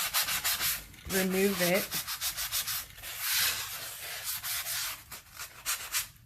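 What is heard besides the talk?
soft sanding block sanding a painted rock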